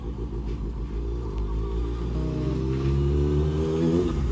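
A loud 600cc motorcycle engine rumbles close by with a deep, throbbing tone that climbs in pitch as it revs up toward the end. No one speaks over it.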